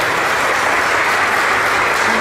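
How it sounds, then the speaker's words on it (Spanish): Steady, dense applause from a crowd at a Catholic church gathering, loud and continuous throughout. "un fuerte aplauso para estos hermanos"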